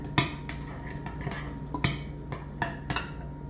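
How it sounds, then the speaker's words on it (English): A big spoon stirring seasoned potatoes in a bowl, with a series of clinks and scrapes at an irregular pace, close and fairly soft. "Big old spoon. Get it all mixed up."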